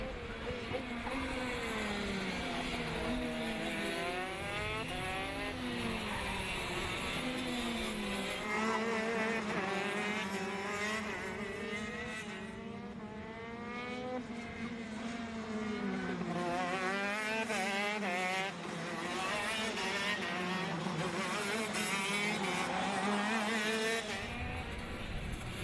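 Racing karts at a Western Australian kart championship drive past with a continuous buzzing engine whine that rises and falls in pitch as they pass, fairly distant, with several engines overlapping.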